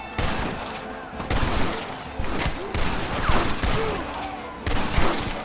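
Gunfire in the Red Dead Redemption video game, with a dense battle of repeated shots and bursts coming in waves, loud and close, layered over a constant noisy din.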